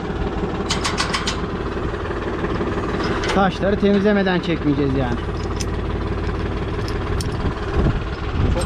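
A farm tractor engine runs steadily in a field during plowing work, a constant mid-pitched rumble close by, with someone talking over it throughout.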